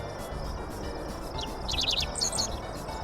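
A dickcissel sings a quick series of sharp, buzzy chirps, a short burst and then another, moderately close over a steady background hiss of insects and outdoor ambience.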